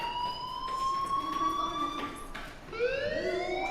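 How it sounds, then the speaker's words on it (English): A fire alarm in the video game Life is Strange rings steadily, a shrill high pitch with harmonics, then shifts into a rising wail near the end over a faint background hum. "do you hear that fire alarm?"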